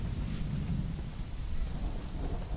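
Steady rain pours with low rumbling thunder in the Conan Exiles video game, a continuous dense wash with no voices.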